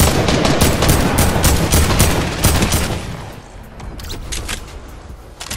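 An AK assault rifle in Fortnite fires in loud, rapid automatic bursts, dense at first and then thinning into scattered shots.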